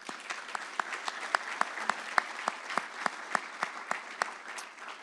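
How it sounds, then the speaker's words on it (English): Audience at a veterans commendation award ceremony giving a round of applause, moderate clapping from a smaller crowd with distinct individual claps standing out in a regular rhythm. "Please give him a round of applause."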